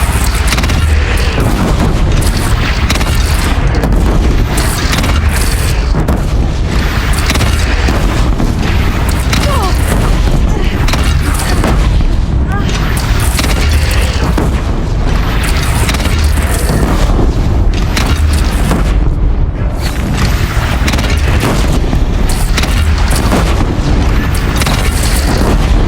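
Continuous loud cannon fire and explosions in a bandit clan battle, dense overlapping booms and blasts pounding without pause, with voices shouting faintly amid the chaos.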